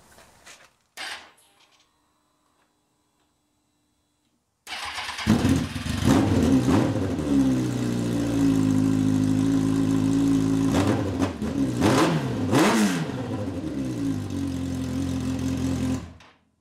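A turbocharged Hayabusa engine fitted in a Willys Jeep build fires up after brief quiet clicks, then idles loudly and steadily with a couple of sharp revs, close by and alone.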